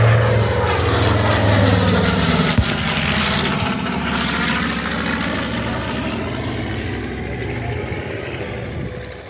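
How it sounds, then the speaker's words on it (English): A North American B-25 bomber in its Marine PBJ version roars past at an airshow in Midland, Texas, its twin propeller engines giving a loud, sustained, throbbing drone that shifts and slowly fades. "So this is technically a Marine version of the B-25."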